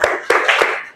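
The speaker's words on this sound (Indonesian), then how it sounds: "tepuk salam Islam dulu" Three sharp rhythmic hand claps from a classroom group doing the Islamic greeting clap chant, evenly spaced and close, with no talk over them.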